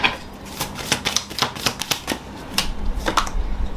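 Tarot cards are shuffled by hand: a quick series of crisp riffling flicks and soft slaps, close and fairly quiet, in an irregular rhythm, with no talking.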